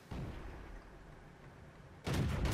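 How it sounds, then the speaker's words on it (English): Tank cannon fire in World of Tanks from a Covenanter, with a booming shot at the start, a rumbling tail, and a second loud blast near the end. "we're going to put all 4 of our shots into him"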